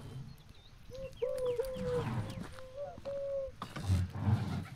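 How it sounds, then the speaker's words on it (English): A pigeon coos in Medieval Dynasty: soft, hollow, wavering hoots in a short run over quiet ambient game noise, with a few faint rustles. "I hear the pigeon right there."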